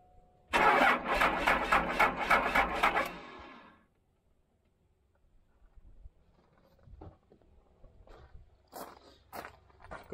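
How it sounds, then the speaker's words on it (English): A Cummins diesel engine swapped into a Cadillac cold-starts with a loud rhythmic cranking chug for a few seconds, then cuts out, followed by quieter scattered clicks and handling noises nearby. "I'm going to set you guys up for a cold start."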